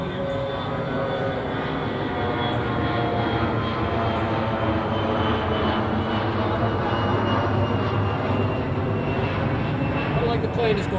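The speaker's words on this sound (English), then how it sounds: "The plane is going overhead right now." An airplane flies overhead during an outdoor beehive inspection, its engine a steady, loud drone that fills the whole stretch without fading.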